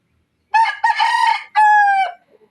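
Several roosters crow in overlapping bursts, loud and close, three long harmonic calls in quick succession with no talking.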